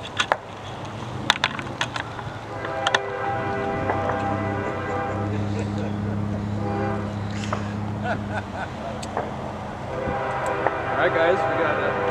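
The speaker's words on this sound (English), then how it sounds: "Alright guys, we got a train coming here." A CSX freight train hauling coke approaches on the Willard subdivision in Fostoria, Ohio, sounding long, sustained, layered horn blasts over a rising rumble, with bystanders talking at times.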